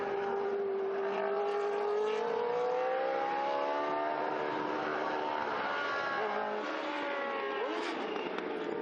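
Historic race cars scream around the Estoril racing circuit, one loud engine sustaining a high, rising and falling whine as it charges over a curb, close and continuous with no voices.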